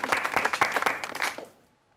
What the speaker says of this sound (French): Tout le monde applaudit, Kate.